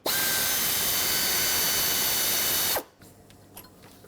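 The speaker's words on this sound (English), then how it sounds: "Now we need to disconnect this 8mm bolt right here that holds this EGR tube on." Power tool loosening an 8mm bolt on the EGR tube of a 2008-2010 Ford F-250: a loud, steady high whir runs nearly three seconds, then cuts off, leaving faint clicks and handling noises.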